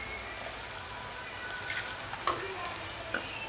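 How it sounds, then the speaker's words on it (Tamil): Onions and green chillies sauté in a pan for a village-style fish curry, giving a steady, continuous sizzle with a couple of brief louder crackles, heard close up and alone. "பாருங்கள், நல்லா வதங்கட்டும்."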